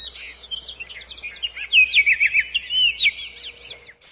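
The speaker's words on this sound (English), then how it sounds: "he could hear birds chattering" Several birds chatter and tweet in quick, overlapping chirps and short trills, clear and fairly close, with nothing else around them.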